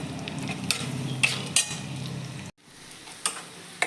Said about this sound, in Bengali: এবার কড়াইয়ে পেঁয়াজ দিয়ে